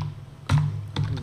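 Fingers tap on a computer keyboard while text is typed, giving two short bursts of close, crisp key clicks over a low steady hum.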